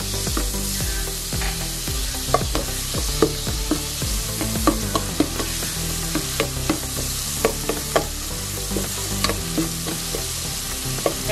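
Chopped garlic fries in hot oil with a steady, loud sizzle, while a spoon stirs and scrapes the pan in regular clinks, close up.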